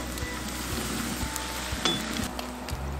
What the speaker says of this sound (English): We've got the fries going, we've got the gravy going